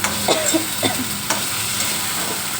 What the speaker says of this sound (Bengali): এই যে মশলা দিয়ে আলুটা কষিয়ে নিচ্ছি